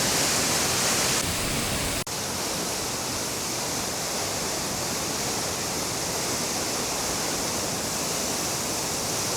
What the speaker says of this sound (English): it is one of the most incredible waterfalls I have ever seen, especially in Cornwall